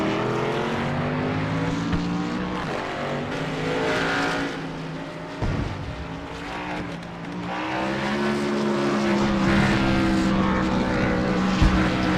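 NASCAR-style race cars roaring around the Thompson short track in a racing video game, engine drones rising and falling continuously and loudly, with no talking.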